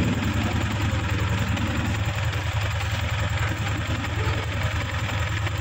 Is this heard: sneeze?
no